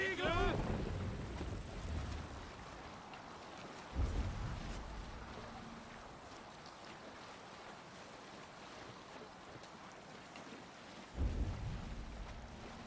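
A sailing ship glides over open water in Assassin's Creed Valhalla, with continuous wind and wave wash heard at moderate level and two brief thumps of rigging or hull creaks along the way.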